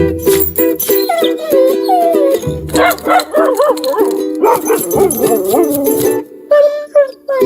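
In a TV advert a dog whimpers, yips and howls in rising, wavering cries, loud and close, with short barks between them and a few brief pauses.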